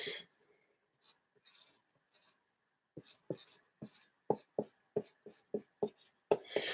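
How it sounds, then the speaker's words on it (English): A marker writes on a small dry erase board, making short squeaky strokes up close. They come in scattered bursts at first, then as a quicker, regular run of separate strokes. "I am going to write on my dry erase board this message right now"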